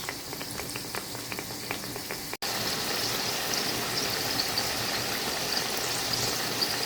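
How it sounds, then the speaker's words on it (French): Chicken pastels sizzling in hot oil, a steady dense crackle and hiss that runs continuously at moderate loudness, with faint irregular taps early on and a brief cut partway through. "Nous avons commencé à griller, à frire nos pastels. Là, nous les avons mis dans l'huile chaude."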